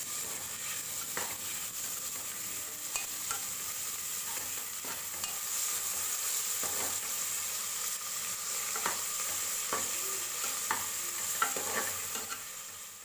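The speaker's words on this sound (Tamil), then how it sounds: "தக்காளி நல்லா வதங்கி வரணும்" Steady sizzling of chopped tomatoes sautéing in a pan for mushroom biryani, with occasional scraping and stirring clicks, continuous and moderately quiet.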